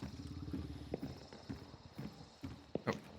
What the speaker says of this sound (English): I heard a horse go off